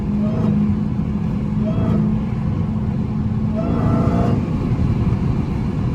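Dodge Hellcat driving on the street, a steady low engine drone with mild swells of revving, heard from inside the car and fairly loud throughout.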